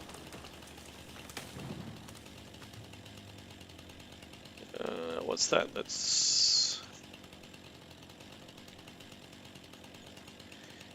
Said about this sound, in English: Yeah, I might put the chainsaw away.